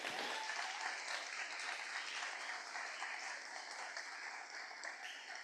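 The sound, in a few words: audience applause for pitch presenters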